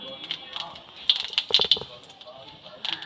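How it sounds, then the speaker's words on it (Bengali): Whole cumin seeds crackle in hot oil in short, sharp bursts, scattered sparse pops against a quiet background. "তেল গরম হয়ে গেছে এবার কটা গোটা জিরে আমি তেলের মধ্যে দিয়ে দিলাম"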